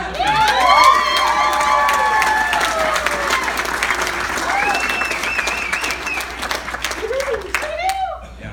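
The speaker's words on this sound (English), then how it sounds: "Let's go ahead and clap it up for Uncle Jeff." Loud applause from a wedding crowd during a groom's speech, with cheers, whoops and children's shouts mixed in, sustained throughout and close by.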